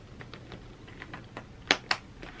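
Two sharp, close clicks sound in quick succession as the push lock on a Coach handbag snaps shut, with faint handling rustle before them.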